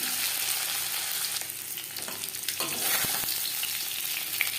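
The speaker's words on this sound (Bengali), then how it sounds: "জ্যান্ত মাছ আমি হালকা করে ভেজে নিলাম।" Shing fish crackles as it fries in hot oil, a continuous close sizzle with a few scraping stirs and small pops near the end, no voices.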